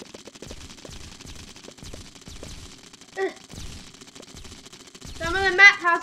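Toy tank guns fire in the Roblox game Tiny Tanks, with rapid repeated shots and thuds in a steady stream and game sounds over them, plus a short voice near the end.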